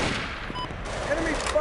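Rapid automatic gunfire in a video game, a steady, loud stream of shots throughout with faint electronic tones layered over it.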